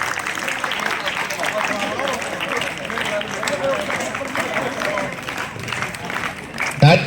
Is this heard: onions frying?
no